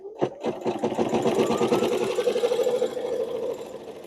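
Embroidery machine stitching fabric for a cathedral window piece, a close, loud, rapid mechanical chatter of the needle running steadily for about four seconds.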